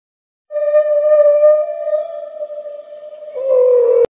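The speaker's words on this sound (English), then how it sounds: "Whale." A long, steady, tonal whale call that holds a clear pitch for several seconds and lowers near the end, heard alone and cut off abruptly.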